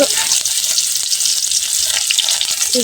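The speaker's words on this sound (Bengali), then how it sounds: "এখন কিন্তু আমি পেঁয়াজ কুচিগুলো দিয়ে দিতেছি এখন হচ্ছে আমি লুচি রান্না করবো পেঁয়াজটা ভালোভাবে ভাইজে নিতেছি" Chopped onions fry loudly in a pan, making a dense, steady sizzle that holds at the same level throughout, with a few faint scrapes beneath it and no talking.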